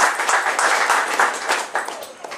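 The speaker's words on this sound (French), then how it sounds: "On peut applaudir pour Papa" Audience applause at a Kimbanguist church radio and television staff introduction, a brief burst of clapping that swells and then thins out over a couple of seconds.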